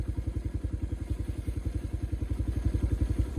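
A kid's mini motorcycle pulls away at low speed, its small single-cylinder engine thumping in a steady rapid rhythm, close and fairly loud with no talking.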